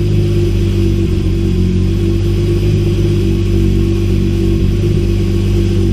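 A Toyota Supra engine running rough at idle just after starting, a loud steady low rumble with slight unevenness throughout and no talking.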